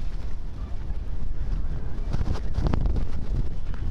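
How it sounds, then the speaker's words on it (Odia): Strong wind gusting outdoors at the Udayagiri site in Odisha, a heavy low rumbling roar on the microphone that swells mid-way and keeps going, with faint voices underneath. "ଏତେ ଜୋରସେ ପବନ ବହୁଛି"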